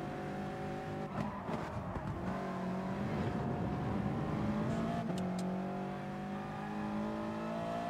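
Race car engines drone steadily at the Nürburgring in Gran Turismo Sport, several cars running close together with rising and falling revs and faint tire noise, loud and continuous with no talking.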